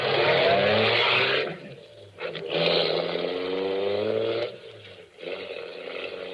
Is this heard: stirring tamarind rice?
no